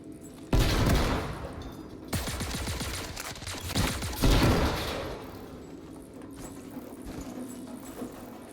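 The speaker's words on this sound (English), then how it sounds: "Just hearing all the grenades queuing up behind me" Bursts of rapid gunfire and heavy explosive booms fill a Star Marine multiplayer match, loud dense volleys starting abruptly and rolling in waves, then tapering to a quieter rumble toward the end, with no talking.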